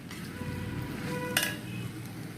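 Chicken kothu parotta with gravy being stirred in a frying pan, a steady sizzle under the scrape of a spatula, with one bright metallic clink partway through.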